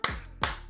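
Two sharp, close hand claps land about 0.4 seconds apart, each a bright crack with a short ringing tail, with no voices during them.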